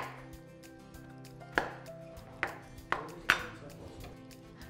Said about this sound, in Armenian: Մանր քառակուսիներ պետք է կտրատել, կտրատում ենք մյուս գույնի բիբարները